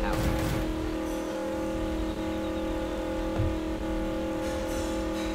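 A car drives in the Roblox game Mad City, its engine a steady, even drone that holds throughout with a few brief tire and road noises.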